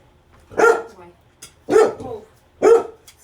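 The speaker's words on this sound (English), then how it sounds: "Excuse me, my dog is barking at another dog." A dog barks at another dog: three loud, close barks spaced about a second apart, each a sharp burst with brief quiet between.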